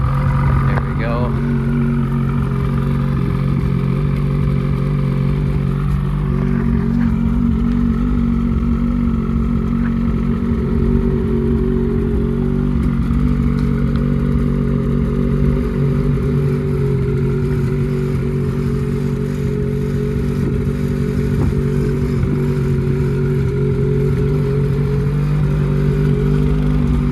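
A 2024 Ski-Doo Summit X Turbo snowmobile engine starts for the first time and runs loud and close, a steady rough drone with several rising and falling revs, while a person talks over it.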